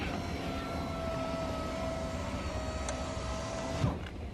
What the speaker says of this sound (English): we're going to give this a try now, going all the way down and all the way up.